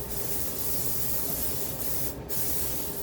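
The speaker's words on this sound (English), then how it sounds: "So I'll spray them both," A can of olive oil cooking spray hisses continuously up close, with a short break near the end before the spray picks up again.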